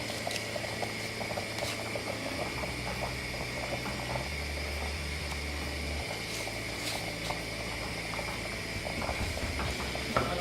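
Fish pepper soup with crayfish bubbles in a pot on the stove, a steady soft boiling with continuous small pops, fairly quiet and close, with no talk.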